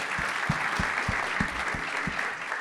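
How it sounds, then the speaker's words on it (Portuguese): Audience applause at an investment summit, a steady wash of clapping from a crowd with a few sharper, closer claps standing out in an uneven rhythm, no talking over it. "Isso merece palmas, por favor."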